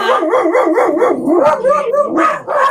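Several dogs barking, yipping and howling together indoors, loud and continuous for a few seconds with overlapping yelps and rising howl-like tones.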